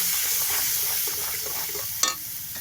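Spices with salt and turmeric being sautéed and stirred in a pan, a steady soft sizzle with scraping stir sounds throughout and one brief louder clatter near the end.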